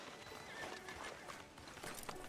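Horse hooves clip-clop steadily at a walking pace in Red Dead Redemption 2, fairly near, with a faint whinny and no talking.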